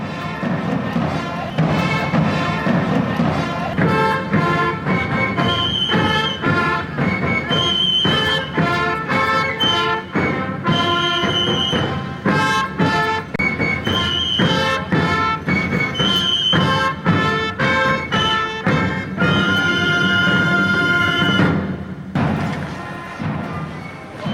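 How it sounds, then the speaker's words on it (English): A brass marching band in a parade in Florence plays a march with steady drum beats underneath, loud and continuous throughout, sounding close as it passes. "Let's listen for a minute to this band marching by."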